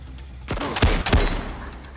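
Two sharp gunshots in the VR shooter Zero Caliber crack out close together, near and loud, trailed by a short rumbling echo.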